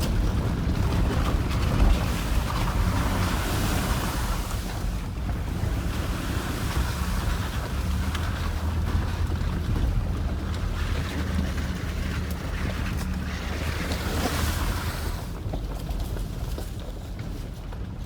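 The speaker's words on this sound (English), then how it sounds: "Now we're going to drive in the creek, aren't we?" Vehicle driving through a mountain creek on an expedition trail, with a steady, loud rush of splashing water and engine rumble filling the whole stretch, heard alone without talk.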